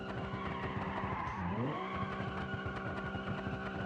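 A car engine drones steadily in a driving video game while tires squeal in a brief sweeping skid as the car spins, the engine note holding throughout.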